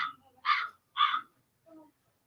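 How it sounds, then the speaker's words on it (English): Crow cawing sound effect: three harsh, evenly spaced caws close up, then a fainter lower call, with silence between. "Okay, that was a bird of some sort. I think it was a crow."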